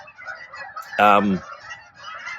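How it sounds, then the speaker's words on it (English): Geese honk outdoors: one loud, nasal honk stands out midway, with fainter calls from other birds before and after it. "It's the geese."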